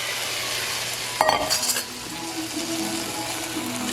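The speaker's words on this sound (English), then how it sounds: "So we're gonna just get it to saute a little bit, to get a little bit translucent." Shrimp sautés in a pan for rasta pasta, giving a steady close sizzle with the scrape and clink of a utensil stirring through it, and one louder clatter partway through.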